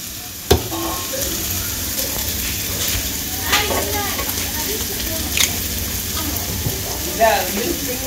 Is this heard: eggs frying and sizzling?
yes